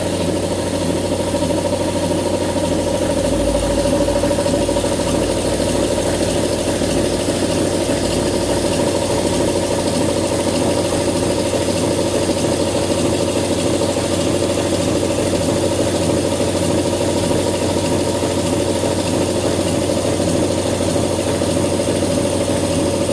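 A narrow fabric machine runs continuously with a steady mechanical hum and a fast, even rhythmic clatter, holding the same level from start to finish.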